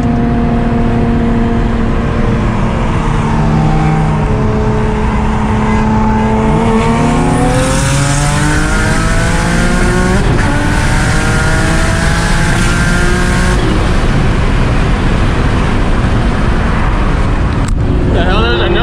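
Single-turbo HR 350Z racing a fast Audi RS3 and a BMW M3, engines roaring loud and close with rising and falling revs through gear shifts, tire and road noise steady throughout, voices talking over the run.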